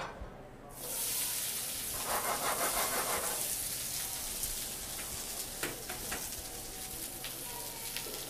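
Sweet yellow onions hit a very hot pan of grapeseed oil with a sudden loud sizzle, then keep up a steady crackling fry with occasional pops and faint stirring, no talk over it.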